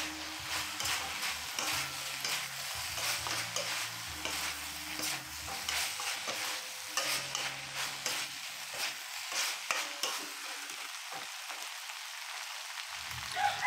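Pork binagoongan with fried eggplant sizzling in a pan while being stirred, a steady crackling fry with scraping strokes, fairly close and alone.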